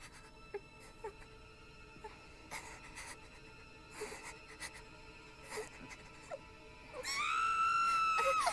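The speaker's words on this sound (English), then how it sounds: "What they call it, a blood curling scream?" A sustained high blood-curdling scream near the end, loud and rising suddenly after quiet, scattered game sounds in Tales of Berseria.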